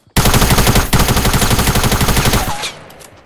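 A sustained burst of rapid automatic gunfire rattles loud and close in a Fortnite gunfight, running for a couple of seconds before cutting off into a fading echo.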